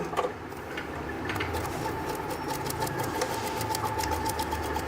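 A sewing machine runs steadily, stitching piping cord onto fabric with a fast, even mechanical whir and rapid needle clatter throughout, fairly close and unbroken by talk.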